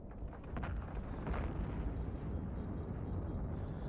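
A ship blows up in EVE Online, a rumbling explosion that swells and lingers as a broad, steady roar, with faint crackling debris near the end.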